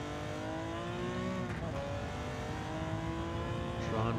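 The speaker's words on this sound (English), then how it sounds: "Just gave that a squeeze of the throttle." A Porsche 917 race car revs under throttle at Spa in Gran Turismo 7, its engine a loud, steady harmonic drone that rises in pitch and holds continuously, with a brief shift blip near the middle.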